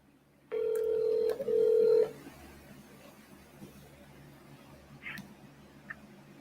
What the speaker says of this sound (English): let's go ahead and give Tom Wolf's office a phone call